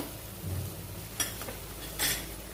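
Onions frying in a pan for beetroot curry, stirred now and then: a faint, steady sizzle runs throughout, with two brief scraping strokes of a spoon against the pan.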